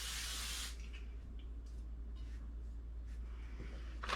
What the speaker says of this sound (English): I'm just going to give it a little spray